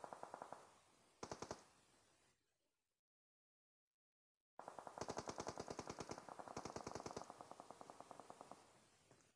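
Rapid bursts of automatic gunfire from a mobile battle royale shooter, with a short burst, a brief silence, then long sustained rattling volleys, loud and close with no talk.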